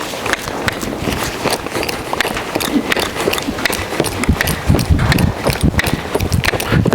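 Horse hooves thud and clop steadily on soft ground during a riding training session, a continuous close rhythm of footfalls with faint ambient noise.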